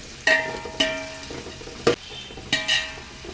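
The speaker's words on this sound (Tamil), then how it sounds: "நல்லா பொன்னிறமாக ஆகிற வரைக்கும் வதக்கணும்" Onions sautéing until golden for chicken biryani, a soft sizzle under a series of sharp metallic clanks and scrapes of a spoon against the pot, about five distinct hits spaced irregularly, no speech.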